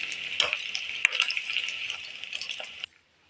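Batter-coated cauliflower frying in hot oil, a steady bright sizzle with a few spoon taps, loud and close, cutting off abruptly near the end.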